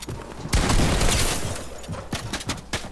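Bursts of gunfire in the Fortnite video game crack out in a dense volley followed by scattered sharper shots, loud and close with no talk over them.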